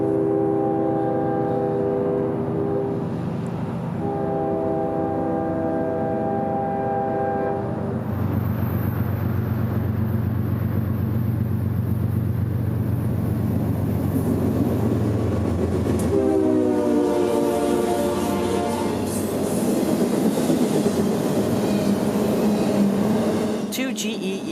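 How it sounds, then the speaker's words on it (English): Two GE ES40DC locomotives haul a southbound freight of UPS trailers and containers near Tampa, Florida, sounding long, loud multi-tone horn blasts over a heavy engine rumble and rolling wheel noise, with a second horn sequence later as the train passes. "Two GE ES40 DCs would power today's haul of UPS trailers and containers for Tampa."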